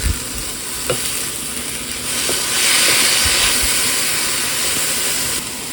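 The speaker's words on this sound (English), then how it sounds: "The onions, peppers, and garlic are pretty well cooked" Onions, peppers and garlic sizzle steadily in a pan for a vegetable lasagna sauce, giving a continuous close frying hiss that swells slightly midway. A few soft stirring clicks sound over it, and no one speaks.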